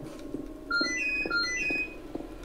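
A mobile phone ringtone chirps a quick series of bright, high electronic notes, faint and a little distant, going off during a game session without anyone speaking over it.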